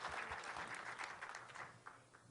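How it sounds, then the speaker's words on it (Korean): A church audience applauds at a worship gathering, with sustained, dense clapping from many hands that carries on steadily and then thins slightly near the end. "박수 한번 치실까요?"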